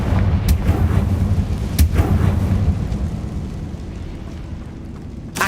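A Confringo fire spell explodes against a barricade in Hogwarts Legacy, giving two or three loud, sharp blasts with rumbling low-end debris that slowly settles into a quieter tail.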